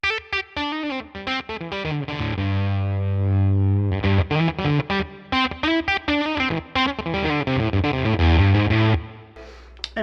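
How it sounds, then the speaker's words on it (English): Electric guitar run through a fuzz pedal with its bias knob turned fully up for a gated fuzz, playing loud, choppy notes and sustained chords that break off abruptly into silence. "it has this bias knob where if you crank it, we get into gated fuzz realm"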